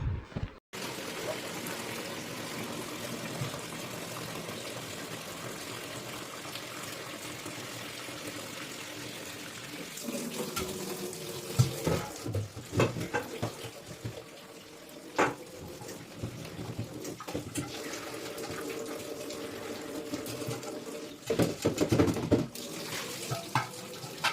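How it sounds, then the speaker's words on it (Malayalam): Kitchen tap running steadily to fill a steel pot with drinking water in a home kitchen, a continuous splashing flow with a few louder bursts and clatters toward the end. "ഇനി ഇതാ കുടിക്കാനുള്ള വെള്ളമൊക്കെ ഒന്ന് പിടിച്ചു വെക്കുകയാണ്"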